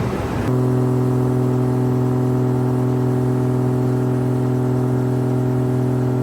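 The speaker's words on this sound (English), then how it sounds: "So we're gonna turn it on the dyno now." A 1JZ-swapped, turbocharged S13 180SX fires up on a dyno, a brief starter whirr and then a loud, steady, droning idle that holds continuously up close.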